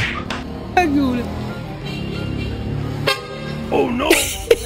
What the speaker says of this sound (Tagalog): Nagulat niya sa busina.